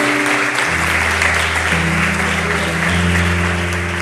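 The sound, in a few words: congregation applauding during a church sermon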